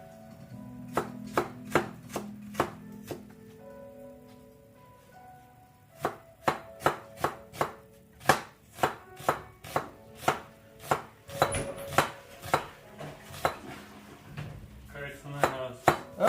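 Onions being chopped on a cutting board, a long run of sharp, evenly spaced knife knocks that start slow and pick up into quick bursts, close and clear with no talking.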